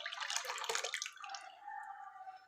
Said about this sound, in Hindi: हमारे पास 1 केजी दूध है जो कि हम कढ़ाई में डाल देंगे